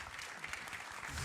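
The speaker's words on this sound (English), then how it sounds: "Please a round of applause for them." Soft, distant applause from a tech conference audience at an API Platform Q&A session, a continuous wash of clapping at low level without speech.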